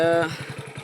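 A motorcycle engine putters with a low, steady pulsing beat, a voice briefly audible at the start.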